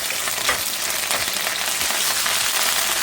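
Curry leaves frying in a pan of hot oil while making shrimp dry fry, a steady, dense, close-up sizzle that holds at an even loudness throughout with faint stirring knocks underneath.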